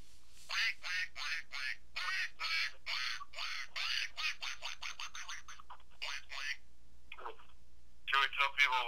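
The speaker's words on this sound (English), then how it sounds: "it's like a duck that quacks when you squeak it." A squeaky duck noisemaker toy gives rapid bursts of loud, nasal quacks in quick repeated series, close up, with a few pauses and a final flurry of squeaks.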